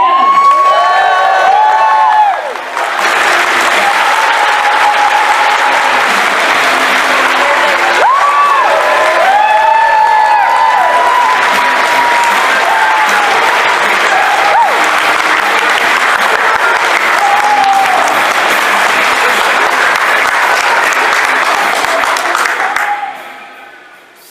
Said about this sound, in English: please give a huge round of applause to our very first guest of TFNation 2024, Michael Charles Hill